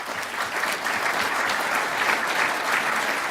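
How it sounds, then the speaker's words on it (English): Audience at a conference applauding Senator John Barrasso, a dense, steady wash of clapping from many hands that holds throughout. "let's all give a round of applause to Senator John Barrasso"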